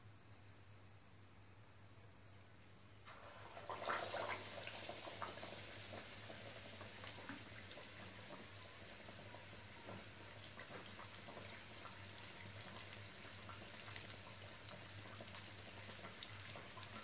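Vadas drop into hot oil after a few seconds of near silence, and a loud, continuous crackling sizzle then takes over and holds steady to the end.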